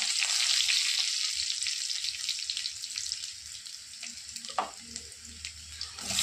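Cumin, garlic and curry leaves crackle and hiss in hot oil as a bright, steady sizzle that slowly fades, with one brief clink near the end and no talking.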